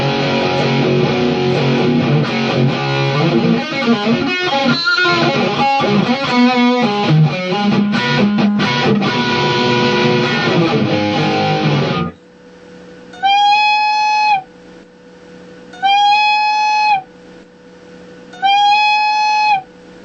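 Electric guitar through an EVH 5150 III high-gain amp head into an EVH 2x12 cabinet, loud distorted riffing with chugging palm-muted chords for about twelve seconds, then three sustained bent notes separated by pauses.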